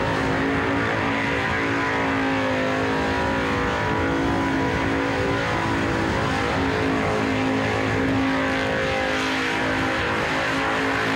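A big block Chevy 496 engine screams at sustained high revs during a competition burnout, loud and close, with a harsh continuous roar and tyre noise running unbroken throughout.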